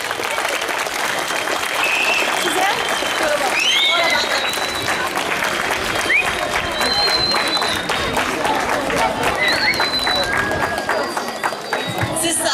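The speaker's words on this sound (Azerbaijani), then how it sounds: "Alqışlar uşaqlar." An audience at a school ceremony in Azerbaijan, marking the Azerbaijan Democratic Republic's 101st anniversary, applauds loudly and steadily for the whole stretch, a dense continuous roar of claps with a few shrill whistles and voices mixed in.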